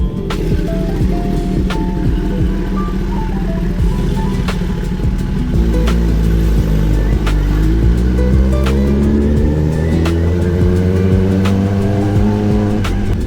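Kawasaki ZX-10R sport motorcycle on a short ride around Puerto Galera, Oriental Mindoro, Philippines, its engine droning steadily and rising through the gears with a continuous loud rumble.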